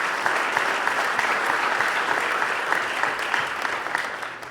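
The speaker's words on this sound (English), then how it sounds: "So give yourself a round of applause for that." Crowd applause at a high school winter varsity athletic awards ceremony, sustained loud clapping from many hands with scattered sharper claps, tapering slightly at the end.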